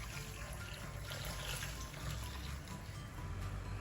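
Boiled water infused for smoky jollof rice is poured into a clay pot of stewing base, a steady broadband splashing and trickle lasting the whole stretch without any talk.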